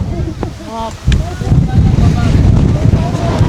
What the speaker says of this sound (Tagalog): Sobrang hangin dito ngayon,